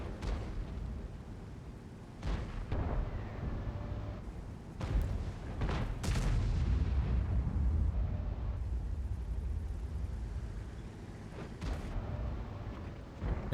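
Heavy tank cannon fire in World of Tanks, several loud booming shots spaced a few seconds apart, each a sharp blast with a rumbling tail over a constant low engine drone.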